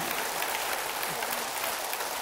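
A concert audience applauds a performer, a dense, even wash of clapping filling the whole moment with no break, with faint voices mixed into the crowd noise.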